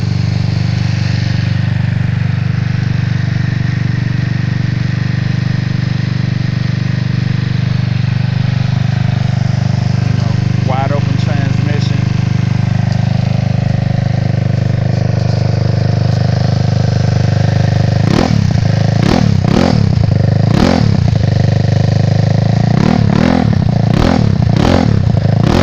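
A GY6 193cc 4-valve stroker scooter engine with a +4mm Taida kit runs loudly up close at its first start-up, a steady droning idle joined near the end by a series of sharp revving bursts.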